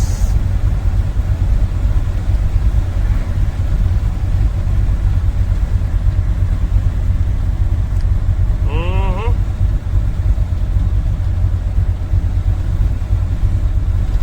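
Truck rolling downhill at about 40 mph, a loud continuous low rumble of engine and road noise heard from inside the cab, steady throughout with a brief tonal squeal near the middle.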